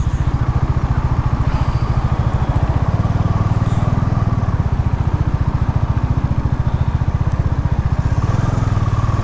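A motorcycle engine runs loud and close during a ride, a steady throbbing drone with a fast, even pulse that holds throughout, with no voices heard.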